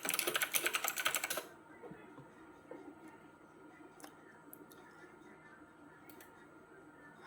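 Quick burst of keyboard typing while a password is entered into a Google account on a computer, fast dense keystrokes lasting about a second and a half, followed by a quiet room with faint scattered clicks.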